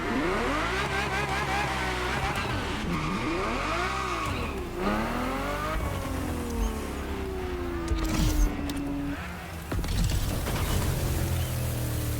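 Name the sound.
Ferrari GTO car driving in a racing video game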